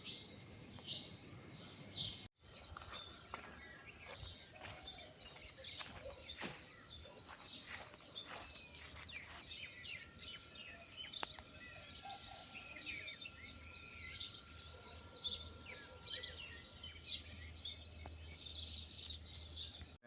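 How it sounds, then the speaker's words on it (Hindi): Faint morning outdoor ambience with scattered bird chirps and calls over a steady high insect drone, distant and soft throughout. "इस चिड़िया की आवाज़ सुने एक बारी"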